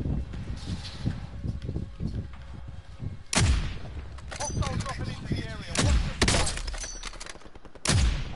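Gunfire in a Warzone battle royale match: loud, heavy shots and short bursts ring out repeatedly over several seconds, close and echoing, with a voice faintly present in the mix.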